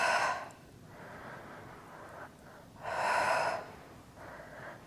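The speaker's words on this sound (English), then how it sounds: "Exhale." Breathy exhalations during an intermediate Pilates reformer workout with weights: a short breath at the start, a longer soft exhale, then a louder forceful exhale near the middle and a lighter one toward the end, close and without talk.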